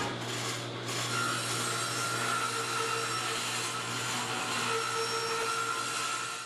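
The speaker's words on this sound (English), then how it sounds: "I've got my table saw blade tilted at an angle to match the slope of the sides" A table saw with its blade tilted at an angle cuts a wooden front piece for a cart, giving a sustained close motor whine with a grinding, rasping cut through the wood and no talking.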